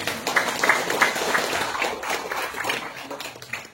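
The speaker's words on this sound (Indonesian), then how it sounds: "Tepuk tangan." Scattered clapping from a small audience at a village head candidates' vision presentation in Candi Karang, Sardonoharjo, made up of uneven, fairly light hand claps lasting a few seconds with no voices over them.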